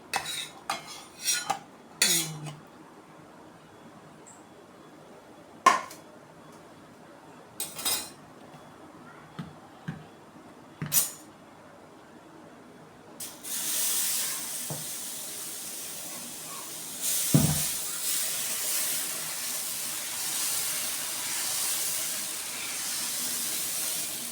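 Dosa batter cooking on a hot griddle, with a scattering of metal utensil clinks and scrapes followed by a long, steady sizzling hiss close by.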